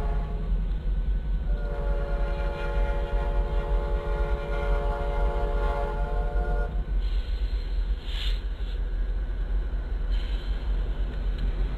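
Amtrak 22, a passenger train running eastbound on the main line, rumbles past nearby with a steady roar while its horn sounds a long, clear blast, then fades.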